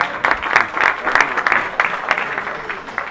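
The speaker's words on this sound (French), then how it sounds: "Des applaudissements, s'il vous plaît." An audience at a retirees' celebration of the Green March claps steadily in a hall, a bright, continuous patter of many hands lasting a few seconds, without voices above it.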